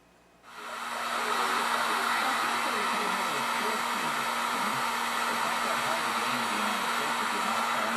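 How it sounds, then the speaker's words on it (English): A heat gun switches on and blows continuously close by, a loud, steady airy roar with a faint motor hum, used to soften tar inside a Motorola VT-71 radio cabinet. "So I will get out a heat gun and start heating it up."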